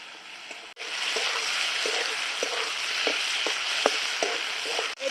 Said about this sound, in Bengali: আলু দিয়ে মশলাটা ভালো করে কষিয়ে নিচ্ছি।